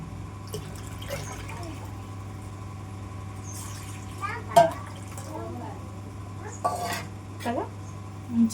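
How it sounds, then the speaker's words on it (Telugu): Water added to tamarind juice for sambar, with sparse pouring and clinks of utensils against a metal vessel over a constant low hum and faint background voices. "పులుపు కనుక ఉంటే మాత్రం కొంచెం మనం వాటర్ యాడ్ చేసుకోవాలి"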